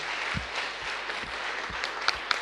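Light applause from a small audience at the close of a capture-the-flag competition review, a soft patter of scattered claps with a few sharper claps standing out near the end.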